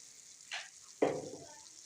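Masala of red chilli, garam masala, turmeric and salt frying in a pan for chicken samosa roll filling. Two short sizzling bursts are heard close up, the second louder, with a soft stirring scrape.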